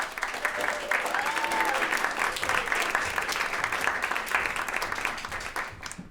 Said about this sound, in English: How about a huge round of applause for Kristin Budde?